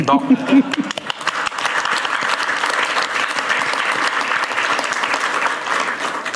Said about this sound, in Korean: 우리 다 같이 한번 박수 한번 치면 어떨까?